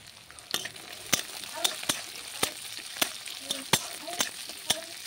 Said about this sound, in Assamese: এইবিলাক এতিয়া গোটেইখিনি দি দিম, ধুনীয়াকৈ ভাজি ল'ম যাতে তাৰ কেঁচা ভাৱটো নোহোৱা হৈ যায়